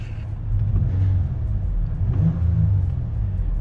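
A Lexus engine with a repaired throttle body revs and rumbles steadily, close and loud, with no speech.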